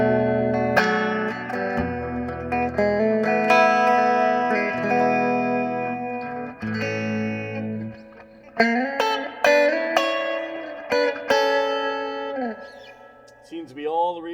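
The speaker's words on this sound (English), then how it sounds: "Seems to be all the reverb you could ever want" Guitar played through a Pignose G60RV amplifier with heavy reverb, sustained chords and notes washing into long echoing tails, loud and close, with a few sharper plucked accents later on.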